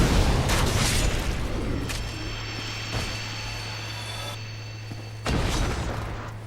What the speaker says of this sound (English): I'm going to hit him with a great fireball and then shoot him immediately.